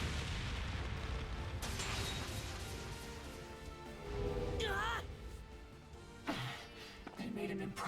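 An improvised flashbang goes off in the video game Trails Beyond the Horizon: several sharp bangs and crashes punctuate in-game music and effects, with characters speaking over and between the bursts.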